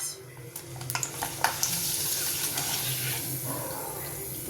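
Potato wafers frying in hot oil, a steady dense sizzle with crackling bursts early on, close and continuous with no talk.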